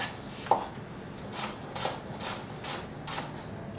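A knife dices apples on a board for cranberry chutney, making a handful of soft, evenly spaced chops after one sharp tap, fairly quiet and close. No one speaks.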